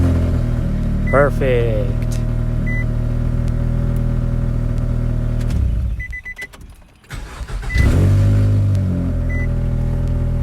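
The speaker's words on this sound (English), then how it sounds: "Let's start her up and see if it runs." A 2002–2006 Nissan Altima with the 2.5-liter engine, just fitted with a replacement starter, cranks over and catches, then settles into a steady idle up close. A brief spoken word comes near the end.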